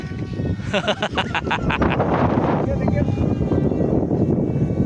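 A Volantex RC glider's electric motor throttles up for takeoff, a steady loud whir under heavy wind buffeting on the microphone, with people talking over it.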